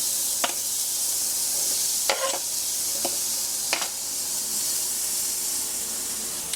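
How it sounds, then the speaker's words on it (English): Onions sizzle steadily in a warm pan, a continuous bright frying hiss with a few sharp clicks and stirring scrapes scattered through it, close and fairly loud, with no voices. "now that our pan is warm, and put some onions in"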